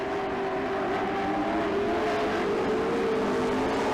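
Race cars on a Grand National Division dirt track, a steady loud engine drone and whine, several cars roaring together at a distance with no break.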